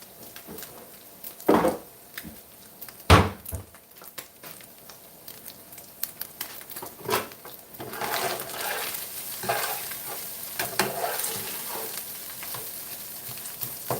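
Fresh garlic and tomato paste fry in a pan with a low sizzle. Sharp utensil knocks come early, then a denser, louder crackle of stirring takes over from the midpoint.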